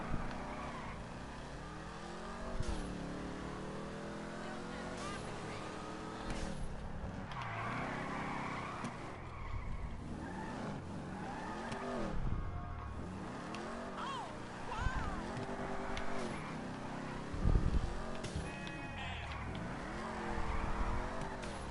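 A car engine in a driving video game revs up and down in repeated rising and falling sweeps, with bursts of tyre squeal as the car drifts around corners.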